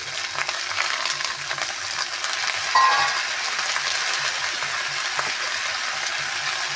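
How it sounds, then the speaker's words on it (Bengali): Malabar spinach cooks with fish roe, cumin, coriander powder and green chillies in a Bengali-style sauté: a steady, close sizzle and crackle of frying that goes on without a break. "এটাকে ভালো করে ঢেকে ঢেকে কষাতে হবে"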